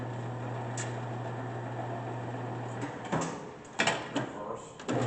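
A GMC 14 x 40 inch engine lathe in low range at 70 RPM gives a steady motor hum that cuts off partway through. A few louder mechanical clunks and knocks follow close by.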